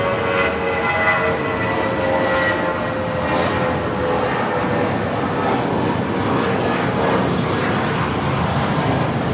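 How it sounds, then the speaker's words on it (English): An Emirates Airbus A380 on Flight 216 to Dubai takes off at LAX, producing a loud, continuous jet engine roar with a whining tonal edge that stays strong from start to finish. "This is Emirates Flight 216 Super taking off to Dubai on the A380."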